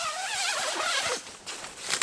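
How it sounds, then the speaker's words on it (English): A zipper iced up on a winter camp tent is dragged open in a few short, scratchy pulls, close and fairly loud. "Well, it iced up on the zippers."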